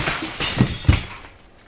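A person walks into a closed glass door, a loud close thump and rattle of glass with a couple of sharp impacts, then the ringing fades.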